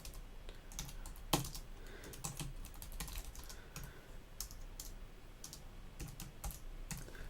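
Code typed on a computer keyboard: quiet, steady clicking of keys in uneven runs with a few sharper taps, close and soft over faint room noise, no talk.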